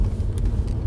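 Steady low engine rumble and road noise inside a moving car, continuous and fairly loud with no talk.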